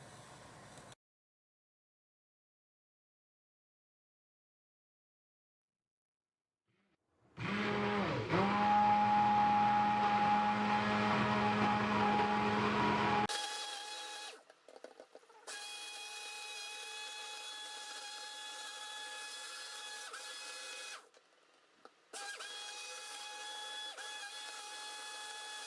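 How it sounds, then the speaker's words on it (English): A handheld electric mixer stirs clear gel. After a stretch of silence its motor starts with a loud, steady whir, then keeps running in long, even bursts separated by brief pauses. "Just to speed up the acceleration process, we need the hand mix tool."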